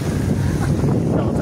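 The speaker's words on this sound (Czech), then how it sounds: "Tady jsou i docela masivní vlny" Big sea waves break on a Tunisian shore in steady wind, a dense, continuous roar of surf and gusty wind noise on the microphone, with no clear individual wave crashes.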